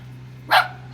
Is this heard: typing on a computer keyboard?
no